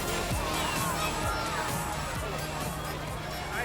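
Crowd at a stock car race at Wisconsin International Raceway in Kaukauna, Wisconsin: dense outdoor hubbub of many voices and shouts, steady and fairly loud, with a speaking voice over it.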